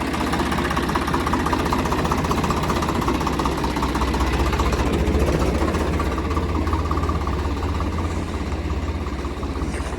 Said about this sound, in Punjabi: ਟਰੈਕਟਰ ਆ ਗਿਆ ਘਰੇ